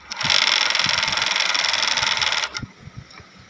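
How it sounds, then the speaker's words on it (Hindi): Flatlock sewing machine being test-run after needle adjustment, converting from two needles to three: a loud, steady mechanical whir close by that runs for about two and a half seconds, then stops abruptly and leaves faint handling noises. "तो अब हम चला के चेक कर लेंगे मशीन को।"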